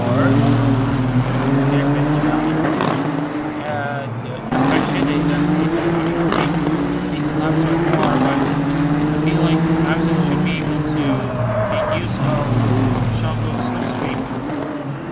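GT3 race cars in a sim racing game at SUGO, loud engines droning and shifting pitch as they accelerate and brake into a turn, with a commentator talking over the racing.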